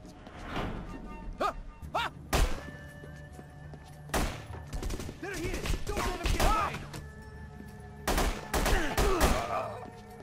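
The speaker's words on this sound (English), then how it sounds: "Stay here till the gunfire stops." Gunfire in The Punisher video game, with sharp, loud bursts of shots in irregular clusters, interspersed with clattering impacts, and a voice speaking briefly between volleys.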